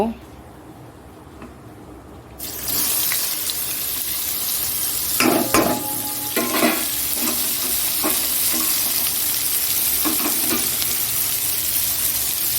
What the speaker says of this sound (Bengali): দেখো কড়াইটা বসিয়ে দিয়েছি এবার মেটে চচ্চড়িটা করব